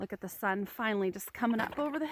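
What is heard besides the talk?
No everyday noises stand out.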